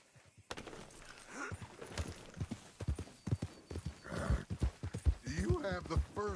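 Horse hooves clip-clop at a steady walking pace in Red Dead Redemption 2, a western video game, with a horse neighing. People talk over much of it.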